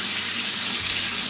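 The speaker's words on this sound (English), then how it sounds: "Just run some quick water over that." A kitchen tap pours a loud, steady stream of water over dishes in a sink, a constant close hiss and splash with no voices.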